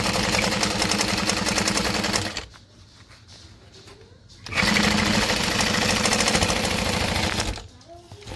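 A sewing machine top stitches a bag seam in two long, loud, close bursts of rapid needle strikes, separated by a quiet gap with soft handling sounds, and another short quiet at the end.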